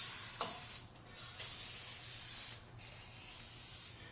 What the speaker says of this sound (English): we're going to spray this, like I said, in those holes